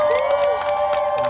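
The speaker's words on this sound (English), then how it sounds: "Can we get a round of applause" Crowd at a campus solidarity encampment cheers and whoops, with high shouted voices rising over a steady tonal background hum and little clapping evident, loud and close for a brief moment.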